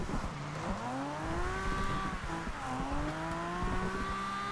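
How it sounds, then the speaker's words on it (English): A 1969 Nissan Fairlady Z racing engine in Forza Horizon 2 revs and shifts continuously in the rain, its pitch climbing and dropping through gear changes, loud and steady without pause. "Engine sounds brilliant"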